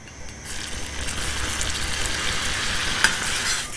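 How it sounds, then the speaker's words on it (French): Butter and flour cook in a small saucepan, giving a soft, steady sizzle with faint stirring scrapes throughout and one brief tap near the end. "Je laisse fondre le beurre avant d'y ajouter la farine"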